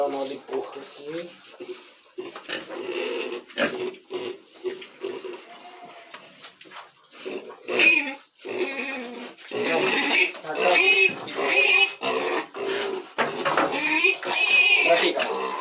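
Pigs and wild boars on a boar and pig farm grunt and squeal in a dense, continuous chorus. The sound is close and grows louder and busier toward the end, and there are occasional human voices in the background.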